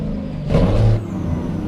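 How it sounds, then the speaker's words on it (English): Simulated heavy truck engine from American/Euro Truck Simulator with an 18-speed gearbox, a low steady drone that swells briefly as the revs rise and then settles back down during a gear change, heard alone. "Letting the revs die right down again."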